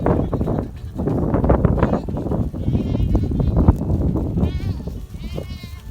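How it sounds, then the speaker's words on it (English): Goats in a grazing paddock bleat repeatedly, several wavering calls overlapping near and far under steady shuffling and background noise. "Goats! Come on, goats!"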